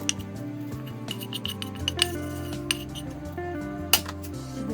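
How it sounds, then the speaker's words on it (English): Dinner being put onto a plate, with light metallic clinks and taps of cutlery against dishes in a scattered, uneven rhythm, close by and moderately quiet, with a few sharper knocks standing out. "I put it all on a plate."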